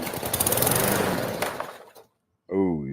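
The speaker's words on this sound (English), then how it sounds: "Oh, you fired up a lawnmower." A lawn mower engine that had been left out in the rain turns over and runs with a rough, rapid chugging for about two seconds, cuts out into silence, then a voice speaks.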